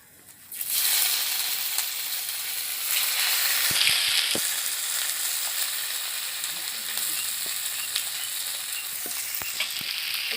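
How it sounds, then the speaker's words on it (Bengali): Dried red chili and peanuts sizzle in hot oil while frying for a vegetarian peanut chutney, a steady close hiss starting after a quiet first second and continuing throughout, with occasional small clicks from stirring. "আর একটা শুকনো লঙ্কা নিয়েছিলাম সেটা এখন ফোড়ন দেব।"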